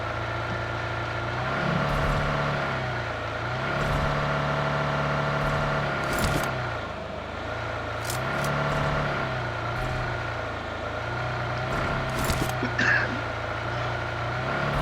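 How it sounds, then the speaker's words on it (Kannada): A steady engine drone with a low hum runs throughout, rising and easing slightly like a vehicle cruising in the video game BGMI, with a few faint clicks on top. "ಸುಮ್ಮನೆ ಗಾಡಿ ಓಡಿಸ್ಕೊಂಡು ಹೋಗ್ತಾ ಇದ್ವಿ"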